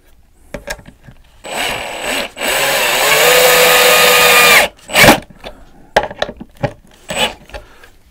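A cordless power drill drives screws diagonally into wood while building a slanted birdhouse, two loud sustained whirring runs followed by short sharp knocks and clatter from handling, close up.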